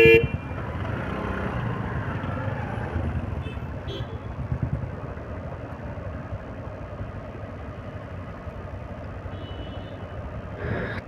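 Dense road traffic in the Richmond Road area of Bengaluru, with engines and motorcycles idling and moving close by and occasional horn toots over a steady rumble from start to finish.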